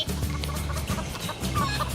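A chicken clucks in a Roblox video game, with repeated close clucks over a dense, noisy game background.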